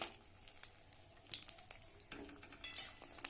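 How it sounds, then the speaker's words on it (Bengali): Lentil dumplings fry in a little oil in a wok, giving faint, irregular crackles and spitting pops over a low sizzle, with no voices. "কড়াইতে দিয়ে দিয়েছি একটু তেল আর দিয়ে দিচ্ছি কয়েকটা বড়ি"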